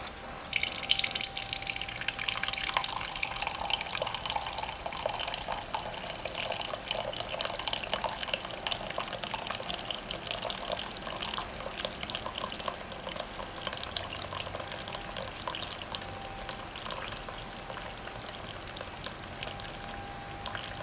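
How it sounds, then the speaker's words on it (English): A Keurig coffee maker with a refillable My K-Cup, fixed after leaking around the top, runs a steady stream of water into a cup, a continuous close trickle and splash lasting the whole stretch with no talk. "You should only see one stream of water this time if it worked properly."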